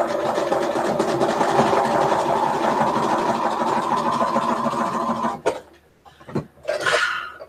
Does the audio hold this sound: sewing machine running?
yes